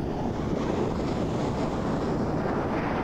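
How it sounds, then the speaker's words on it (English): Strong wind blasts across an open clifftop above a beach, a continuous loud roar buffeting the microphone, with no voices. "it's pretty windy up here"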